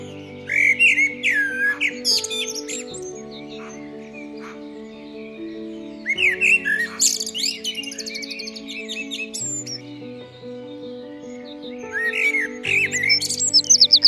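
A white common blackbird sings clear, fluting phrases in bursts, close and prominent, over a soft sustained musical background, in Plérin, Côtes d'Armor.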